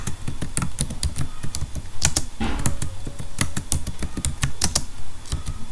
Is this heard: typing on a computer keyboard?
yes